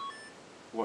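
A mobile phone gives off a short, quiet electronic beep: a few thin tonal blips fading out, with a low hum behind them and a brief louder rustle at the very end.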